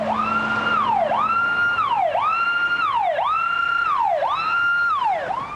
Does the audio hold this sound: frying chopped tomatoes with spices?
no